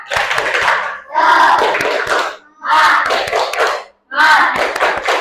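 A classroom of students doing the rhythmic "tepuk semangat" spirit clap, four loud bursts of clapping and chanting voices separated by short pauses, close and energetic.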